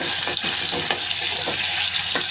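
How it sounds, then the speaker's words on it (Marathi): Tomatoes being stirred in hot oil for a mutton curry, a steady loud sizzle with repeated scraping strokes of the spoon through the pan, and no voices. "छान असा ढवळून घ्यायचा टॅमॅटो तेलामध्ये."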